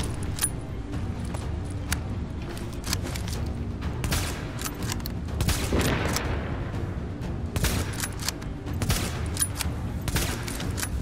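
Assault rifle fire in The Division, a refugee camp firefight with repeated bursts and scattered single shots crackling at moderate volume over a steady background din, with no talking.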